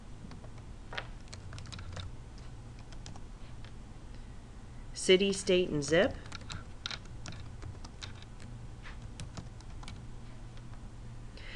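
Light, quiet clicks from a computer keyboard as card details are entered, scattered under a steady voice. A short, louder burst of talk sits near the middle.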